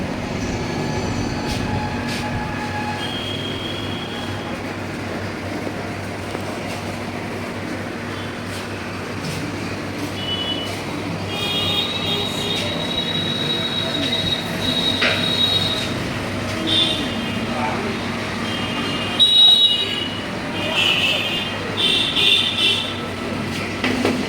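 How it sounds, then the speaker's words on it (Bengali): A train rumbles past close by at the Gangarampur station level crossing, wheels squealing in sustained high tones over a steady rolling drone that swells louder toward the end. "গঙ্গারামপুর স্টেশনে এখানে রেলগেট পড়ে গেছিল, কারণ ট্রেন আসবে"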